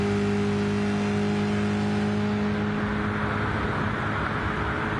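Race car engine of a Ford GT40 at Le Mans in a racing game, a steady, loud droning hum with a constant tone that slowly rises as the car accelerates, with no talking.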